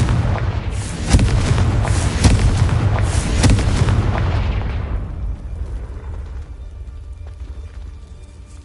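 Confringo blasting spells in Hogwarts Legacy erupt in a loud run of booming explosions with crackling bursts, fading into a rumbling tail.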